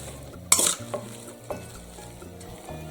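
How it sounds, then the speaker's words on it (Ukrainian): Grated zucchini poured into a pan, landing with a sharp wet splat and sizzle, followed by a few lighter scraping stirs and soft utensil taps, close and moderately loud. "Тепер я висипаю ось сюди наш кабачок."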